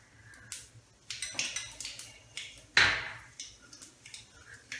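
Mustard seeds dropped into hot oil in a dry pan, giving scattered soft crackles and pops with one louder sizzling burst midway, close up and otherwise quiet.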